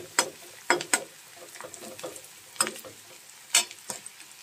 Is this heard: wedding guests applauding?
no